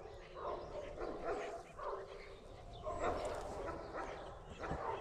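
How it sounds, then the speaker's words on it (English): An Armenian Gampr dog gives several muffled, faint barks over a steady background rumble, with a little talk nearby. "She's an Armenian gamper."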